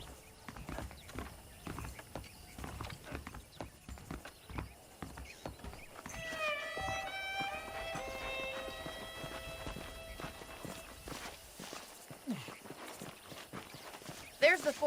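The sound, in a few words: horse hooves clip-clopping in video game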